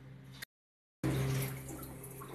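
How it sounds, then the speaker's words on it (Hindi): Water splashes into a pan of cooking papaya in a short burst, then a steadier pour follows after a brief silence, close and fairly loud. "थोड़ा सा पानी भी इसमें रखेंगे"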